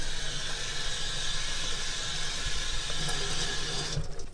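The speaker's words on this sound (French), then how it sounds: "Pour charger la cloche en eau, c'est fort simple, il suffit de la passer sous le robinet d'eau froide." Cold tap water runs in a steady, loud rush into a steam cloche being filled under the faucet, continuous and close until it tapers at the very end.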